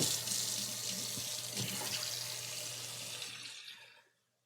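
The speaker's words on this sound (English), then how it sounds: "I'm gonna just run a little cold water over these guys." Cold tap water runs steadily over eggs in a kitchen sink, a close, continuous splashing rush that fades out as the faucet is shut off near the end.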